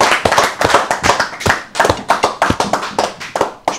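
A few people at a dinner gathering in Chambéry clap their hands close by, with sharp, uneven claps in loose bursts that pause briefly and then resume.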